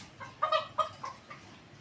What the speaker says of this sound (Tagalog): Ayan mga inahin ko.